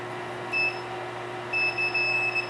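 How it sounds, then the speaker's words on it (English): Two thin electronic beeps from a circuit tester at an electrical panel, one short and one longer, sound faintly over a steady background hum. "Let's see if it beeps."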